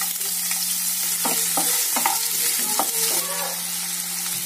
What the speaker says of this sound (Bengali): তেল গরম করে পেঁয়াজ কুচিটা প্রথমে তেলের মধ্যে দিয়ে দিলাম।